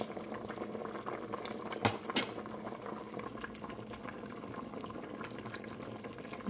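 Kumquat marmalade cooking in a pot on the stove makes a steady, close bubbling simmer, with two sharper pops just before the two-second mark and no talking.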